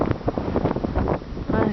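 Strong gusty wind buffets the microphone high on Mount Jefferson, a loud roaring rush over the whole brief moment, with a voice faintly mixed into it.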